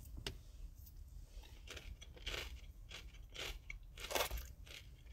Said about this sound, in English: Now I'm gonna go in with this Muddy Buddy cookie.